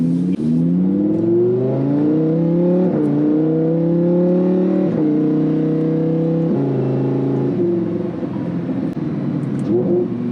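A Lamborghini Huracan 610-4 pulls away in first gear, its engine loud and close, revving up through repeated rising sweeps with short dips as it accelerates.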